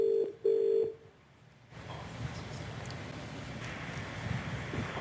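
A telephone ringback tone on an outgoing call: two short, steady tone bursts near the start, then faint line hiss and background noise, with no talking.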